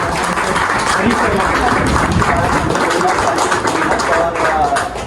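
A crowd at a new store opening in Yamuna Nagar breaks into loud, continuous applause, dense clapping filling the whole stretch with voices murmuring underneath.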